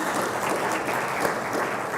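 An audience at a talk on historic maps and georeferencing bursts into dense, sustained applause, a steady wash of clapping from a crowd filling the room.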